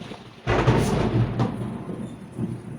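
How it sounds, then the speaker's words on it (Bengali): A sudden heavy thunderclap from lightning outside rumbles loudly, then rolls and slowly fades over a couple of seconds, alone without speech. "বিদ্যুৎ চমকাচ্ছে বাহিরে প্রচন্ড"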